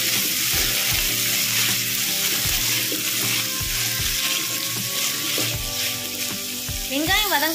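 Small onions sauté in hot oil with fennel seeds and curry leaves for a Kongu-style mutton curry, giving a steady, close sizzle with some stirring clatter and faint running water, no talk.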